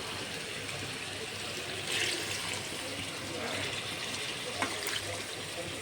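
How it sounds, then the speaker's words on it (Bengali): Broth is poured into a chicken curry simmering in oil in a pan, giving a steady close rush of liquid that carries on throughout with faint sizzling beneath it. "তেল বের হয়ে এসছে, এখন আমি ঝোল দিয়ে দেব পরিমাণ মতো"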